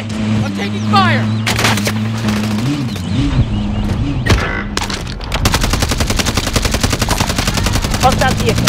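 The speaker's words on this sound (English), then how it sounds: "I'm taking fire!" Gunfire erupts in the video game Warzone, with single loud shots and a booming hit early on, then a long rapid burst of automatic fire, close and loud over engine rumble and game audio.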